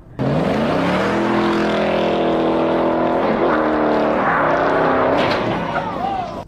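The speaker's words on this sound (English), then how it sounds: "Driving a Prius" A Toyota Prius driving, its engine and road noise holding a steady, close drone that shifts in pitch as it goes, with a voice talking over it.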